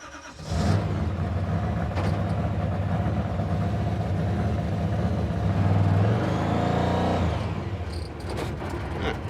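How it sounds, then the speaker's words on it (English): A 1970 Dodge Super Bee with a sticking throttle, its engine catching and settling into a fast, loud, steady idle that surges higher for a moment before easing back. "the throttle is sticking, or at least the thing's idling way too fast now"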